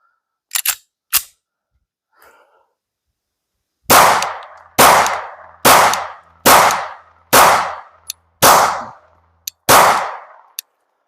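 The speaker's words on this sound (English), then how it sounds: "let's go ahead and pop some more rounds downrange" Sharp gunshots from a Glock 19 9mm pistol fitted with a Durkin Tactical barrel and an Oden slide: a couple of early cracks, then a steady string of seven loud shots about a second apart, each with a short echo.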